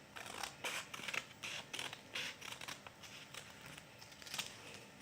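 Scissors snip around the edge of a piece being cut so it will fold in two, making a quick series of crisp, close cutting bursts with short pauses between strokes.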